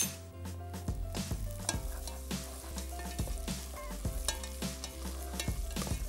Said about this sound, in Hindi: फ्राई करना है प्याज को